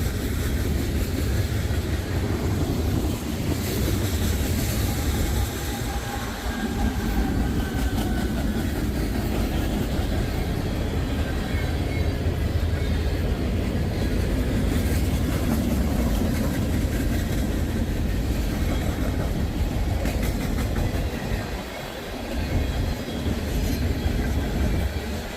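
A freight train carrying containers, some with hazmat placards, rolls past nearby in Ohio with a steady heavy rumble and rhythmic wheel clatter for the whole stretch, loud and continuous.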